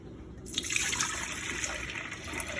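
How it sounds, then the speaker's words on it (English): Milk pours steadily into a pot on a medium-high stove for homemade cheese, a continuous close liquid splash and trickle with no talking. "And then you add your milk."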